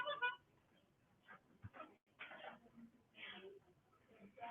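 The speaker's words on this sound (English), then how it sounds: "a dog barking" A dog-barking sound effect plays from an Android app as faint, short yips and whimpers in scattered bursts, mixed with quiet talking.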